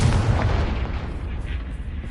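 A Confringo fire spell blasts in a Harry Potter video game, a loud booming burst that rumbles and fades over about two seconds.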